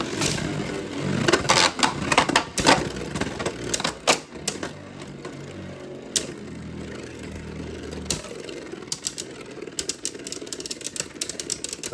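Geist Fafnir and Valkyrie Beyblades clash inside a stadium after a relaunch, a rapid string of sharp clicking and clattering hits over a grinding, whirring spin, close and fairly loud.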